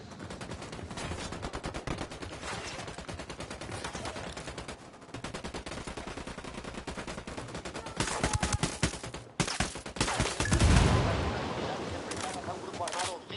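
Heavy automatic gunfire in the Ghost Recon Wildlands video game, with dense rapid bursts of shots rattling almost without pause and a louder cluster of blasts near the end.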